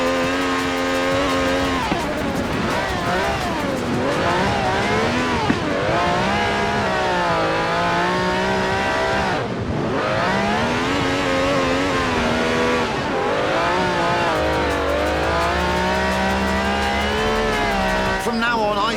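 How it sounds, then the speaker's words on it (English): A V12 engine with over 750 horsepower in the Forza Horizon 4 video game, revving continuously with rising and falling pitch sweeps and brief lifts between pulls, loud and close throughout. "This has a V12 with over 750 horsepower"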